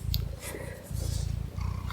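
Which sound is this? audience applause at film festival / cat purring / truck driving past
cat purring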